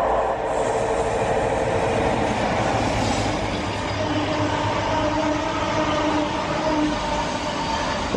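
Loud train rushing past at Leighton Buzzard station, a continuous heavy roar of wheels and rail noise close by throughout, with a faint horn-like tone emerging midway.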